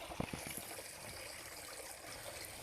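Small waterfall trickling into a koi pond in a garden with green plants, a soft continuous watery wash with a few brief splashy drops near the start, faint and steady throughout.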